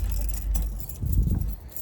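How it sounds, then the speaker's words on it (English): House keys jangle briefly and close by in a couple of short metallic shakes, over a low outdoor rumble that could be traffic. "I gotta get my house keys."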